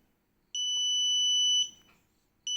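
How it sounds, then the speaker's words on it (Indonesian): A shrill electronic buzzer on a three-phase submersible pump control panel, signalling the water source has run out, sounds in a steady tone for about a second, stops briefly, then starts again; loud and nearby with no talking. "pompa langsung auto off dan buzzer akan berbunyi"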